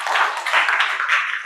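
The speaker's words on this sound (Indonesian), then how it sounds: "tepuk tangan untuk kita semuanya" A class of schoolchildren claps together during a morning lesson, a dense, steady patter of many hands close by that fills the whole moment with no talking over it.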